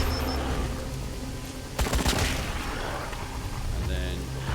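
Gunfire rattles in the video game Wasteland 3 as a rapid burst of shots lands over a dense, noisy combat bed, loud and close, with a brief tonal game cue near the end.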